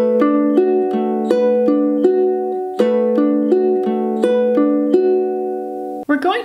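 Ukulele fingerpicked at song tempo in a steady repeating pattern, clear close notes in even cycles, played alone with a short strum or noise at the very end.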